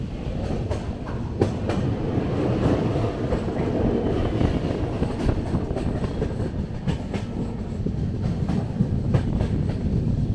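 Passenger train travelling on rails near Prayagraj, India, heard from inside as a steady low rumble with rhythmic clickety-clack wheel beats throughout, with no talking.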